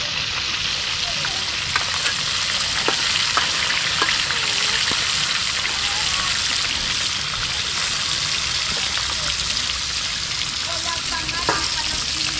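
Food fries in hot oil for a team lunch, a steady close sizzle with occasional stirring clinks, and people talk faintly in the background.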